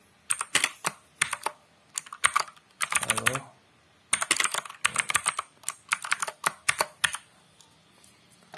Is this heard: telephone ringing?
no